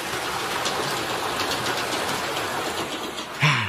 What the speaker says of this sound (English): The train. Now that was the way to travel.